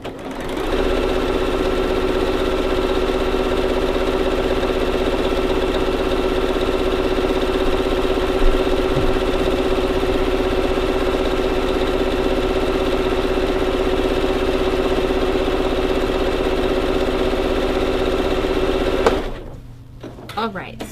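Sewing machine zigzag stitching a skirt seam: a steady, close mechanical whirring hum running continuously for about nineteen seconds, then stopping abruptly, with a few faint knocks near the end.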